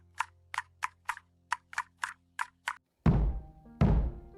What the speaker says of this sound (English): Knock, knock. Someone is at the door.